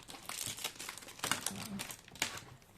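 Crinkly packets of envelopes are handled close by, with continuous plastic rustling and crackling and a few sharper crinkles.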